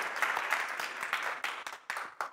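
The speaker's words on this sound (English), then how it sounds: "Round of applause for you for supporting UCLA." A live audience bursts into applause at a UCLA athletics celebration, steady crowd clapping with a few sharper individual claps standing out, fairly close and continuous throughout.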